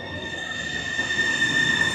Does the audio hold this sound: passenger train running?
yes